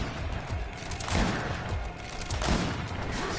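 Gunfire in the GreedFall video game, a dense continuous barrage of shots with repeated bursts over steady noise; loud and close, without talk.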